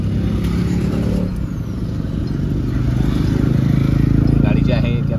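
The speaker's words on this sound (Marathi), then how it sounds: "गाडी जी आहे ती आत्ता पेट्रोलवरती आहे." Petrol-fuelled MG Hector engine idling steadily with a low, continuous hum that swells slightly toward the end, while people talk nearby over it.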